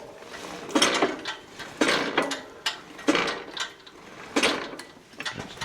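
A bicycle wheel with tubeless tires is spun by hand, giving repeated bursts of ticking and swishing about once a second, fairly quiet and with no talking.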